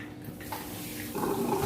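Water runs from a tap during laundry washing, a soft hissing flow that grows fuller and louder in the last half second.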